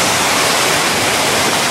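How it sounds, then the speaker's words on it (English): A forest stream rushes around a small island just below a waterfall on Pounder Branch along the Sheltowee Trace, giving a steady, loud, close wash of flowing water with no voices. "So the stream is going around us."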